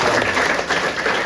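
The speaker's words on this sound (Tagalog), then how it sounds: "Palakpak mo sarili mo." An audience at a distributor orientation claps for themselves in a steady, dense wash of applause that holds at an even level throughout the short burst.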